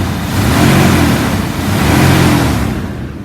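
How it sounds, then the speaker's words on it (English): A 2002 Dodge Ram 3500 utility truck engine with 160,333 miles revs loudly twice from near, rising and falling in two broad swells before settling back toward idle. "let me rev it up a little so you can hear it."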